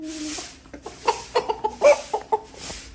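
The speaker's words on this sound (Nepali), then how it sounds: "भाले नै भाले हो" A rooster clucks in a rapid run of short, sharp calls close by, each burst distinct and loud against a quiet farmyard background.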